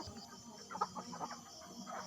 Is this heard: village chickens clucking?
yes